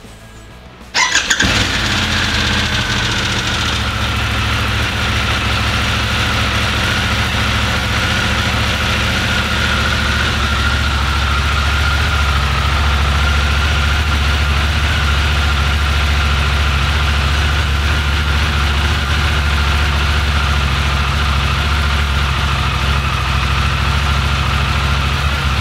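A Harley-Davidson Pan America motorcycle engine cranks and starts, then settles into a steady, loud, close idle for over twenty seconds with no talk over it.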